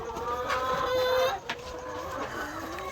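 Laying hens in a coop clucking and calling together in a close, continuous chorus of drawn-out tones, with one louder cluck standing out midway.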